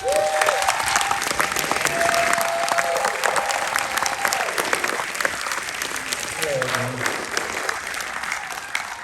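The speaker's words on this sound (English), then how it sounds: "with a huge round of applause" An audience at a fintech event claps in a thick, sustained round of applause to welcome a speaker onto the stage, steady and loud throughout, with some voices mixed in.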